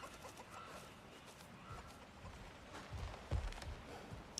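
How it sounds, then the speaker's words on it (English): Little chickens cluck faintly in a town in God of War Ragnarok, soft scattered clucks over a quiet ambient bed, with a slightly louder burst of clucking near the end. "look at the little chickens in their home over here."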